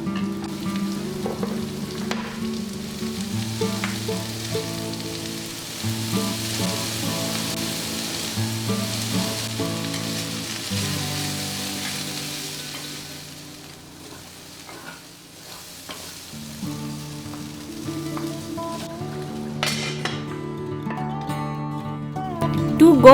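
Sabzi vegetables fry in oil with spices, sizzling and crackling steadily while being stirred, with a brief quieter dip partway through and the frying swelling again toward the end, accompanied by background music.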